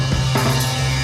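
A drum beat from a song plays in a brief, dense snippet of the recording, with heavy low drum thumps under a thick band texture.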